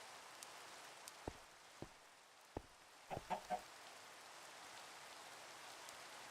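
A chicken in a video game clucks a few short, quiet times in a quick cluster, set against faint patter like rain and scattered soft ticks.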